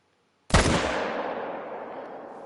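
A single loud, sharp rifle shot in The Hunter: Call of the Wild, fired at bison, with a long reverberating tail that slowly fades.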